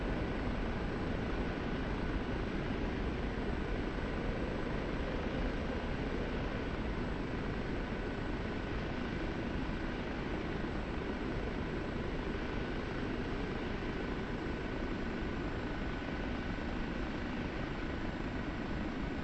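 Steady broadband rotor and turbine roar of a Kiowa helicopter in flight within the DCS combat flight simulator, continuous and even throughout with a faint high whine, no speech.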